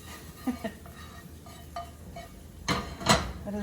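Pan work while cooking tamagoyaki, a Japanese rolled omelette: a few light metallic clinks and scrapes of a pan, then two louder clattering knocks near the end, close and moderately loud with no talk.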